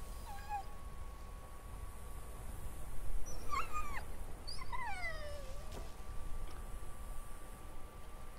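In The Walking Dead: The Final Season video game, a dog lets out several high, thin whimpers and whines in short bursts over a steady low background hum, with no talk.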